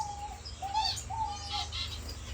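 Owl finches newly paired in a cage give soft, short chirps and thin tweets in an irregular series, close and fairly quiet over a low background hum.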